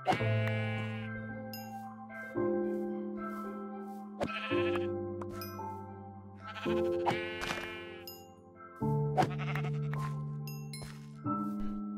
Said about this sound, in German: Oh, Schafe. Schafe sind cool.